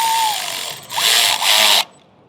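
A power tool tightens a hose clamp on a Ford 6.0 diesel Excursion: two short, close whirring bursts back to back, each stopping abruptly.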